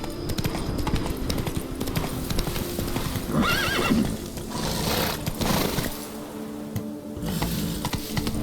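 A horse in the video game The Witcher 3: Wild Hunt neighs while its hooves clip-clop at a steady walking pace. Soft game ambience runs beneath it, and the sounds stay fairly close and moderately loud throughout.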